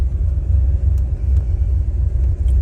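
A 1971 Chevrolet Corvette with a 365-horsepower 454 V8 idles close by in a deep, steady, loud rumble with slight pulsing and no talk.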